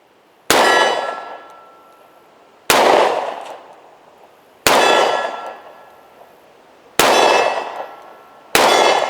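Five loud, sharp double-action shots from a Charter Arms Undercover .38 Special revolver firing 158-grain rounds, spaced about two seconds apart, each a hard crack with a ringing, decaying tail and no talking.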